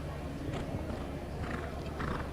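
Horse hooves clip-clop through a show jumping round at a Grand Prix final at Steyn City, with an occasional whinny, a steady noisy arena ambience beneath the beats.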